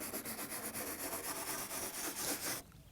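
Scrubbing grime from the carbide tips of a saw blade: a steady, rapid back-and-forth scratchy rubbing, close and fairly quiet, that stops abruptly near the end.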